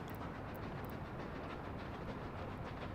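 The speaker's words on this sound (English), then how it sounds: "Oh, I hear the train." A train arriving in the 1960s-era city-building game Workers and Resources gives a steady, dense rumble of rolling wagons, with faint high clicks near the start and no voices.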